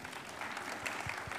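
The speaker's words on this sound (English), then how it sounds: "Clap if you think it's a useful pattern." Audience at a lightning talks session clapping briefly, a faint, soft patter of hands lasting just over a second.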